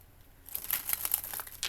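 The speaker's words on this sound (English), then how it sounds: "as I was shuffling, I did see a card flip over" Tarot cards are shuffled in quick crinkling, riffling bursts. The sound is faint and close, follows a short quiet start, and has no voice over it.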